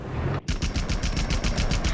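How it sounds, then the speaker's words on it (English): Rapid machine gun and cannon fire from a Japanese Zero fighter tears into a Wildcat, a loud continuous rattling burst of repeated shots after a brief gap at the start. "Countless Japanese bullets and cannon shells shred the Wildcat from cockpit to tail."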